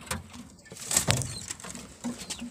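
Pigeons coo softly inside a breeding loft, several low murmuring calls close by, with light rustling and fluttering between them.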